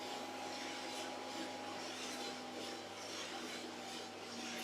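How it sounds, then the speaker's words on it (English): The fan vent of a Hottop KN-2282B-2K+ coffee roaster gives a steady, close airy whoosh with a faint constant hum, running evenly throughout without talk. "You can maybe also hear on the video the vent."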